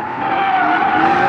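Mazda Miata drifting at a drift event, tires skidding in one sustained, steady squeal with engine noise beneath, loud and fairly close, lasting just over a second.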